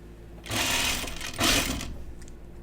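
A sewing machine stitching a Melilot shirt runs in two short bursts of rapid mechanical whirring, close and fairly loud, with a brief pause between them.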